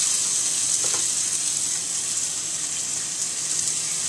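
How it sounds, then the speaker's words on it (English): Meat patties hit a fully heated pan and settle into a steady, moderate sizzle and hiss that holds evenly throughout, with no one speaking. "you put in one of the patties. It should make a sizzly sound."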